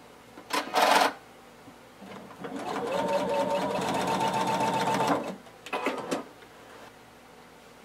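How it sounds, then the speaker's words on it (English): A domestic sewing machine stitches along a fabric fold close to the edge: a short burst, then a steady whirring run of about two seconds, followed by a few brief stitches, fairly close and clear. "I'm gonna just sew pretty close to the edge of the fold."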